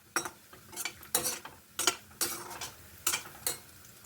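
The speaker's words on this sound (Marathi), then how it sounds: "ते हे तुपामध्ये आपण तळून घ्यायचे ते पाहू शकता गरम झालेला आहे तळून घ्यायचे ड्रायफ्रूट" Dry fruits fry in hot ghee, heard as a faint sizzle broken by a series of sharp, regular spoon scrapes and clinks against the pan.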